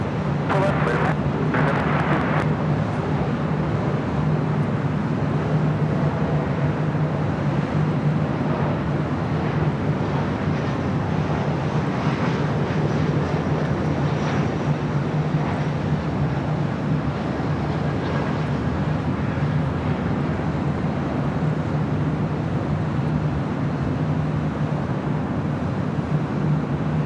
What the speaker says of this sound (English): A Delta A330 arriving on the south side